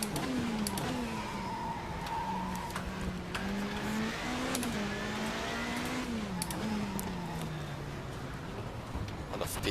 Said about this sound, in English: I'm gonna shift down, up again and down, because just don't want to hit that rev limiter there